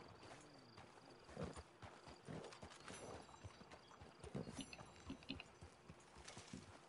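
Hooves clip-clop at an unhurried walking pace, with a horse snorting and shifting nearby, faint and somewhat muffled, in the video game Red Dead Redemption 2.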